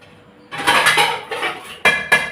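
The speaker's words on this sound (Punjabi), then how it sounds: "ਕੜਾਹੀ ਵੀ ਢੱਕ ਦਿੰਦੇ" Metal lid set down over a kadhai (wok) in a home kitchen, giving a few sharp metallic clanks and rattles, with two distinct clangs near the end; no one speaks.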